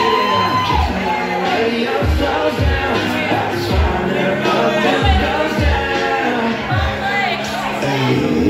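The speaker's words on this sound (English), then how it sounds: "cheer him on, guys" Wedding guests at Hilliard Mansion cheer, whoop and shout loudly and continuously as a groom goes for the bride's garter, with a dense crowd roar and overlapping voices throughout.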